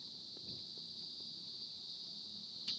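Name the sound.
crickets chirping at a campsite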